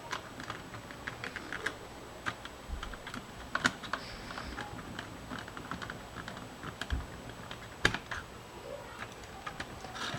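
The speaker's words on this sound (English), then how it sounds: "5 Phillips head screws go back in. Go ahead and tighten all 5 of them up." Phillips head screws being driven into an airsoft high-capacity magazine make a run of small, sharp clicks and ticks at an irregular pace, close and dry, with no voices.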